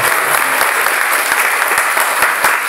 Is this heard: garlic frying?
no